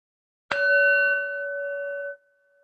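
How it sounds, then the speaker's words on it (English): A single meditation bell is struck once to close a guided meditation, ringing clear and sustained, then fading over about two seconds in a quiet room. "I'm going to bring the meditation to a close with the sound of the bell."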